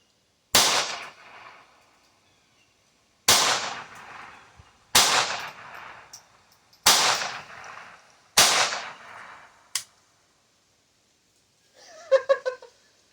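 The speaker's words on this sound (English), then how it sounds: "We're going to shoot another group here" Five sharp gunshots from a Ruger Mark II pistol crack out at uneven intervals, each loud and close with a short decaying tail, followed by a faint metallic clatter at the end.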